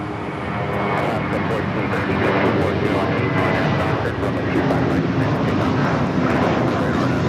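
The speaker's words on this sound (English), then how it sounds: "This is Spirit Airlines 1866 taking off to Milwaukee on the A321" A Spirit Airlines Airbus A321 takes off at LAX with a loud, sustained engine roar, and voices talk over it for most of the stretch.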